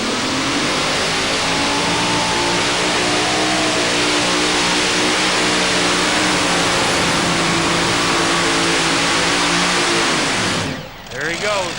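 A modified tractor-pulling engine at the 2008 NTPA Championship in Bowling Green, Ohio, roars loud and steady through a full pull, a dense sustained blare that cuts off sharply near the end.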